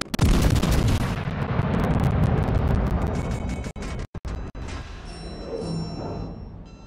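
Naval video game artillery fire, a loud booming salvo that rolls into a long rumbling blast, then cuts out briefly before quieter crackling and distant shell impacts, with no talk.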